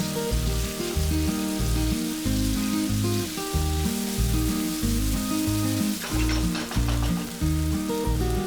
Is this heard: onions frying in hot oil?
yes